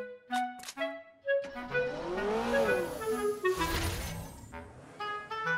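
An electric car drives through the mobile shooter game Knives Out, with a rising and falling whine, tonal game chimes, and a burst of skidding or crashing noise partway through, all fairly quiet with no talking.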